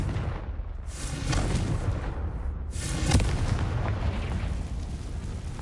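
Repeated booming blasts from the Confringo fire spell in Hogwarts Legacy, loud rumbling explosions with crackling debris, the heaviest burst arriving about midway.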